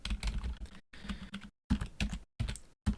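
Quiet, close tapping on a computer keyboard comes in short bursts of keystrokes separated by brief silent gaps.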